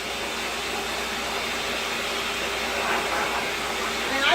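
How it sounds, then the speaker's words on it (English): A pet blow dryer with no nozzle blasts hot air in a steady, loud, unbroken whoosh that swells slightly toward the end. "This dryer puts out a good amount of heat and a good amount of airflow."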